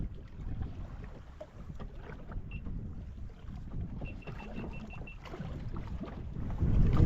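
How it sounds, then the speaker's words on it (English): Strong wind buffets a small fishing boat on inshore reefs off the Sunshine Coast, Queensland, a steady roaring rush with water slapping the hull, growing louder toward the end, with no one talking. "Oh, really big wind today."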